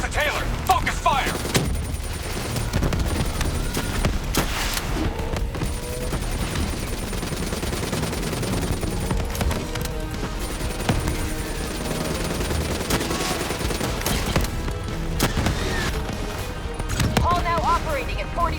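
Sustained gunfire and heavy combat noise in Call of Duty: Black Ops 3, with continuous bursts of shots and impacts over a dense battle bed, mixed with radio-style voices speaking throughout.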